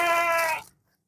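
A single short bleat from a domba kacang sheep on a farm, close and clear, lasting about half a second before cutting off into silence.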